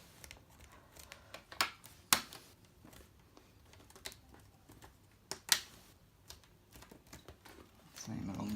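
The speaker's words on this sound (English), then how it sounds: "You can hear it clicking back in place." Plastic screen bezel of an HP EliteBook 840 G3 laptop clicking back into place, a scatter of small sharp snaps and clicks, two louder, spread over several seconds alongside handling noise.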